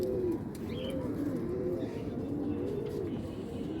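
Pigeons coo with repeated low rolling calls throughout, close and steady over a dense bed of cooing from a flock of domestic pigeons, with a faint chirp or two above.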